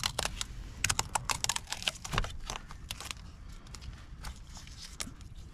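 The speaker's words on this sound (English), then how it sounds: "We have to take this tape off to get to them." Tape being peeled and torn off pre-wired upfitter switch wiring in the dash of a 2022 Ford F350 Super Duty, giving a dense run of crackling, rapid clicky rips close by, with no talking.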